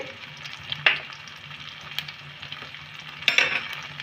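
Black mustard and whole cumin seeds sizzle steadily in hot oil over low heat, with two sharper crackling bursts as the seeds hit the pan, close and unaccompanied by speech.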